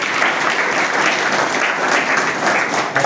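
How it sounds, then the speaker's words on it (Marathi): Dense, sustained applause from an audience at a foundation-stone ceremony for a new building, many hands clapping close and loud throughout with no pauses. "त्याच्यासाठी एकदा आपण टाळ्या वाजवूया।"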